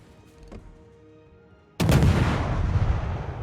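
A naval artillery salvo in a naval warfare video game: a low rumble gives way to one sudden, loud blast, followed by a long, heavy, rumbling decay.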